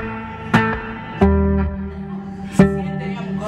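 Bass guitar notes played through a short echo delay effect, three separate plucked notes each followed by a quick repeat and sustained low ring, close and clear with no talking.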